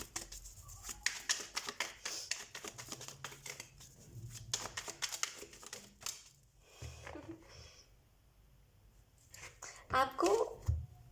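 Tarot cards are shuffled by hand in quick papery riffles and soft slaps, close and fairly quiet, under someone talking in Hindi.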